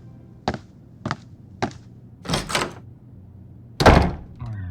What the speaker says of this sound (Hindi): जैसे ही कियारा ने वॉशरूम का दरवाजा बंद किया